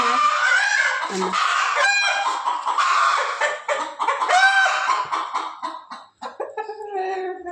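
Native hens cluck busily and a rooster crows, close and loud, with overlapping bird calls filling the yard throughout.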